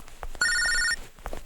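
A telephone gives one short, bright electronic ring lasting about half a second, loud and near, framed by a few soft thumps like footsteps.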